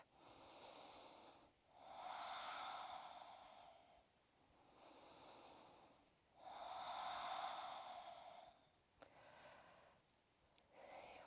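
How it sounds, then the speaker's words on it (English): Slow, deep breathing during a yoga strength flow, with long audible inhales and exhales alternating in a steady rhythm, close and soft, with no talk. "Checking if we are still breathing."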